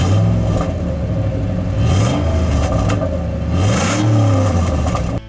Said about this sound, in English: the most beautiful exhaust tone I've ever heard.